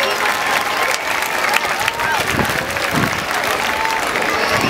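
Sustained crowd applause at a live outdoor Christmas carols concert in Surfers Paradise, steady and dense clapping with cheers and whistles throughout, fairly loud and close.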